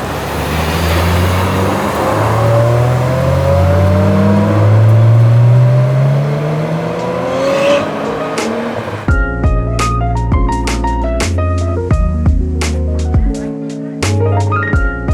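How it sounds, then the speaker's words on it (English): A car drives up the ramp at Daikoku PA, its engine rumbling and rising in pitch as it climbs, then giving way to a sharper, rhythmic mechanical clatter with some background traffic noise. "The car's going up the ramp."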